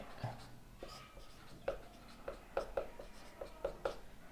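Marker or chalk strokes on a board during a physics lesson, a handful of short scratchy taps spaced unevenly, close and soft, with faint background noise and no clear talk.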